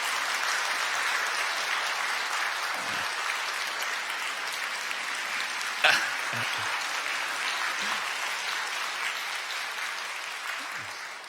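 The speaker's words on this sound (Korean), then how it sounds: "여러분 환영의 박수 부탁드립니다" A Korean church congregation at a Sunday morning service claps in welcome, with sustained, even applause that stays loud for about eleven seconds and tapers slightly at the end.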